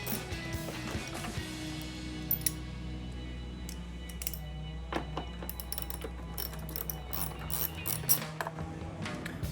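Ratchet wrench with a 10 mm socket loosening the headlight mounting bolts on a Jeep Gladiator JT: scattered metallic clicks and ratcheting taps, close by, over a steady low hum.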